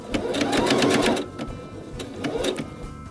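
A sewing machine stitches a diagonal X on a tote in two short runs, a rapid rhythmic clatter of the needle close by, with a brief pause between them.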